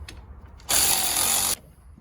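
A power tool spins a caliper bolt on a 1994 Buick LeSabre, a loud, steady whirring burst lasting under a second after a few faint clicks, then quiet.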